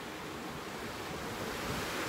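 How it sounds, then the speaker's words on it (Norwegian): Sea waves wash up onto a shore in a steady, close, broadband roar that never pauses, with some wind noise mixed in. "Kommer sjøen etter meg her."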